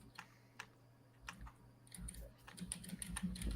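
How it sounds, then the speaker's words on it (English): Forceful typing on a computer keyboard: a rapid run of sharp, close key clacks that grows busier and louder toward the end over a low steady hum, with no talking. "Who's hammering on a keyboard right now?"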